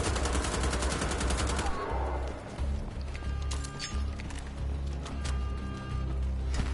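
Video game gunfire in Wolfenstein: The Old Blood, loud rapid automatic bursts over a dense, roaring battle soundtrack, with sharper single cracks punctuating the din.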